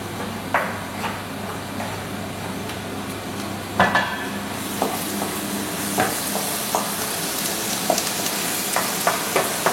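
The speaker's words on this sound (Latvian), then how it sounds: "tagad ņemam sīpolus un liekam eļļā cepties" Chopped onions fry in oil in a pan for a potato and mushroom soup, a soft continuous sizzle broken by occasional scrapes and clinks of a utensil stirring against the pan.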